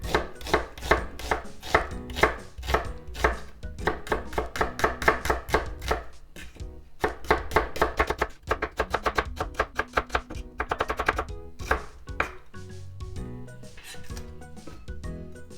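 A knife chops briskly on a cutting board while slicing an ingredient thin for katsudon, with rapid, evenly spaced close taps in quick runs, slowing to fewer, softer strokes near the end.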